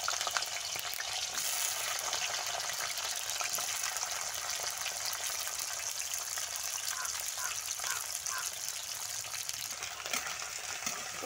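Ivy gourd pieces frying in hot oil for a spiced potato and ivy gourd curry, giving a steady, loud, continuous sizzle with a few faint stirring clinks throughout.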